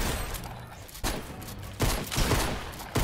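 Gunshots in the Fortnite video game, three or four loud, separate shots spaced about a second apart, each cutting in sharply over steady background noise.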